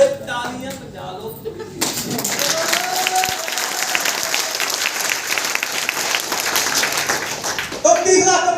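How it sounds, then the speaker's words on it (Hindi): Audience applause at a motivational business training seminar breaks out after a brief spoken line, a dense, steady wash of clapping that holds for several seconds before a voice resumes at the end. "अबे तालियां बजा लो।"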